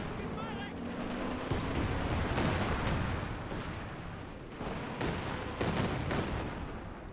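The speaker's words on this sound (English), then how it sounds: "Katusha with a great barrage." Katyusha rocket barrage in a World War II strategy game, a dense rumbling roll of launches and blasts under continuous battle noise, with a commentator's voice running over it.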